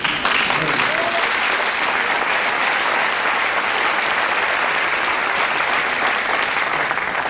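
A hall audience claps loudly and steadily throughout at a comedian's show, dense close applause with no pauses, and a voice is heard faintly under it.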